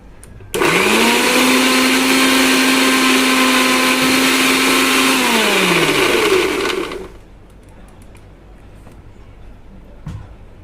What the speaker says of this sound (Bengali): ব্যাস, এবার বাটবো, এটাকে মিক্সিতে ঘোরাবো।